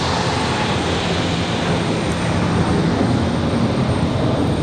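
An airliner takes off from runway 23 left at Raleigh-Durham International Airport, a loud, sustained broadband engine roar filling the whole stretch without easing.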